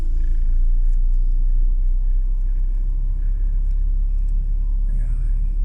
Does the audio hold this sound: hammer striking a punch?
no